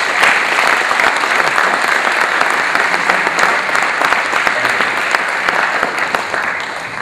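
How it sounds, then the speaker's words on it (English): An audience at a ceremony gives sustained, dense applause that stays loud and steady for several seconds, then eases slightly at the end, with murmured voices faint underneath. "please give them a big round of applause"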